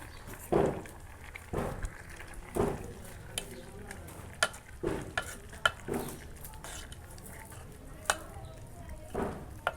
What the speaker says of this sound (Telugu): అన్నీ వేసుకొని మంచిగా కలుపుకోవాలి